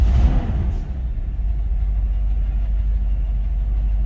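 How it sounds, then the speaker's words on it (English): A 1976 Chevy C10 Suburban with a factory 454 V8 and no mufflers, already running after start-up, holds a loud, steady, deep rumbling idle close by with no talking over it. "We can at least start it up."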